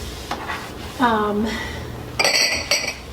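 Mugs and glasses clink and ring against each other as a kitchen cabinet is cleared out, a short cluster of bright knocks coming after someone speaks briefly nearby.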